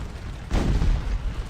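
A cannon fires canister shot in Scourge of War Waterloo, a single loud low boom that rolls on for about a second against a quiet battlefield backdrop.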